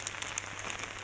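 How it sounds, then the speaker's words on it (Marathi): Steady rain patters on surfaces beside an outdoor well during a heavy downpour, a soft continuous hiss with scattered drop ticks and no voices. "पाऊस चालूच आहे."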